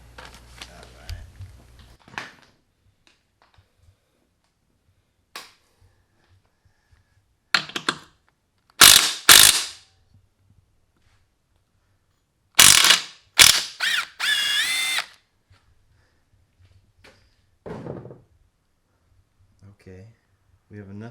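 Socket wrench ratcheting during motor removal on a Honda CR125 motorcycle, several close, loud bursts of rapid clicking separated by quiet gaps, with a few faint knocks in between.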